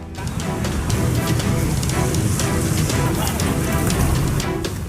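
Heavy rain pours steadily in Jakarta, a loud dense hiss of drops pelting surfaces up close, continuous throughout with no pauses.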